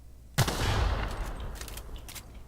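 A single loud weapon shot in the video game The Outer Worlds, a sharp blast followed by a long rumbling decay with faint clicks and clatter afterward.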